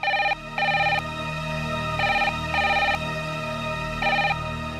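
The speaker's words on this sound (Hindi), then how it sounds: "बेटा कोमल के लिए फोन है" A telephone rings in a home, sounding a trilling electronic ring in repeated double bursts with short gaps between them, close and clear over a quiet background hum.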